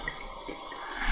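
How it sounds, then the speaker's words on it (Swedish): Water poured into an Aperol and wine spritz, a short soft splashing and trickling of liquid close by, with no voices. "Och sen så slänger man i lite vatten."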